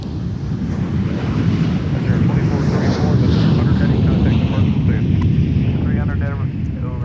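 An Endeavor CRJ 900 LR jet takes off at MSP airport with a loud, broad engine roar that swells and holds, mixed with wind rumbling on the microphone.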